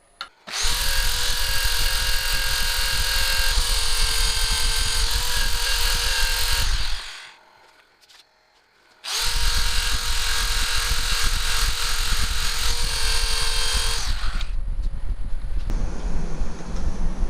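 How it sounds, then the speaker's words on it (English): Wooden Viking bowl being power sanded, a loud steady whir running continuously for about six seconds, a brief pause, then another long sustained burst at the same level. "I am going to sand this, finish that contour off, and get the bottom all sanded as well."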